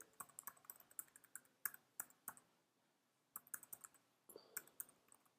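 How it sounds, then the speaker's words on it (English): Bursts of quick keystrokes on a computer keyboard, close and crisp, in irregular clusters with a short pause midway, entering test details into a website form; no speech. "I'm just typing in some test stuff for now"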